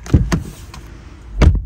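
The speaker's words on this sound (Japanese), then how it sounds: "で、ドア閉めた音はこんな感じ。" A Subaru Crosstrek car door closing, a couple of light clicks followed by one solid thud, close and clear with no talk.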